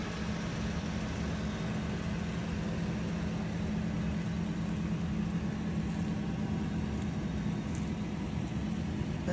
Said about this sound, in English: The vehicle is running.